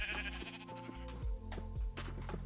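Minecraft sheep bleat in the video game, a few short, close, nasal calls over a steady low backdrop.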